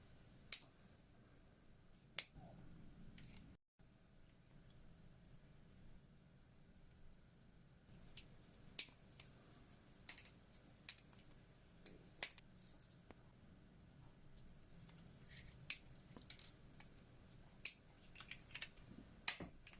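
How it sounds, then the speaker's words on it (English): Cutters trimming the legs of SMD LEDs from a Clio 197 RS: sharp, faint snips spread sparsely over a quiet background, one every second or two, with no voices. "Cut the LED, get your LED legs, trim off any excess."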